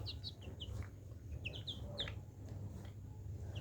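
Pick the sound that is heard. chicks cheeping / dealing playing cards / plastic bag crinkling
chicks cheeping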